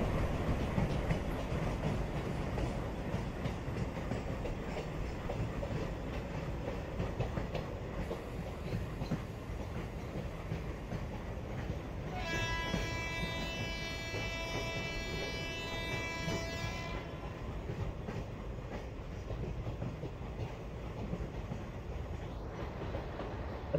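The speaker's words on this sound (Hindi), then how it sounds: "और ट्रेन पास हो रही है भाई" An Indian train in a railway simulator game rolls steadily along the Jammu Tawi to Pathankot route, a continuous rumbling clatter of wheels on track with a brief tonal whine partway through, with no talk.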